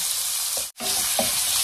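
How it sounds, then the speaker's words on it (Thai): Pork stir-fried with young ginger and garlic in a pan, a loud, dense sizzle with light scraping strokes and a momentary gap in the middle. "ก็หอมกระเทียมก็หอมแล้วก็ใส่เนื้อหมูลงไปผัดเลยค่ะ"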